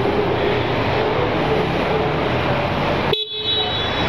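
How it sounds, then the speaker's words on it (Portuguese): A 2023 Yamaha Fazer FZ15 150 cc motorcycle sounds its horn, a loud steady tone held for about three seconds close by, then cut off abruptly, leaving quiet. "Vamos ver a buzininha dela?"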